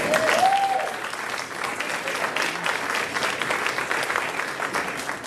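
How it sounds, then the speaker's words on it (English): Concert audience applauding steadily at a spring pops music event, a dense wash of many hands clapping that holds evenly for several seconds with no voices over it. "Dr. Ann Gassman, a round of applause for her, please."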